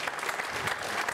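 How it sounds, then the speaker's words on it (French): Audience applause at a televised charity talent show, steady and dense with many hands clapping evenly throughout, moderately loud with no voices over it. "Je pense que nous pouvons l'applaudir encore."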